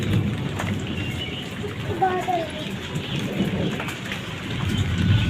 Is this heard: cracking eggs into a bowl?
no